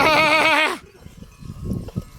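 A single loud, wavering bleat from a sheep up close, followed by softer shuffling and low rustling noises, as a flock of sheep with a ram is herded on a highland pasture in Tokat, Turkey.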